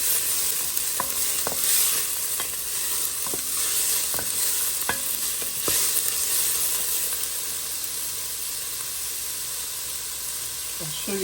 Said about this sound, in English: I'm just going to saute these till they soften